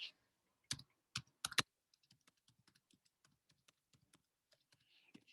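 Someone types a search query on a computer keyboard, producing a few loud keystrokes followed by a quick run of faint, close clicks in an otherwise quiet room.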